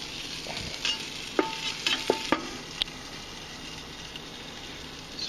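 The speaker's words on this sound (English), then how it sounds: "So we got our wings, they're sizzling away, covered up." Chicken wings frying under a cover on a Blackstone griddle, giving a faint, steady sizzle with a few sharp clicks and taps scattered through it.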